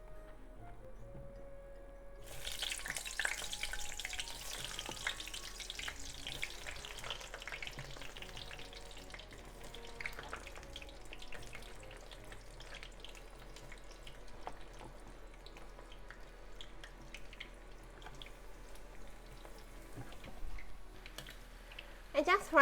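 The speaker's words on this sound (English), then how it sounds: "Heat up some vegetable oil in the pot over high heat and let's fry the eggplant." Eggplant fries in vegetable oil heated in a pot over high heat, with a soft, steady sizzling crackle that starts suddenly and continues quietly throughout, with occasional light clicks and stirring.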